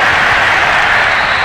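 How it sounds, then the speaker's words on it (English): A home crowd applauds in Madden NFL 22, a dense, loud wash of clapping and cheering that holds steady throughout without any talk. "And the home crowd applauding."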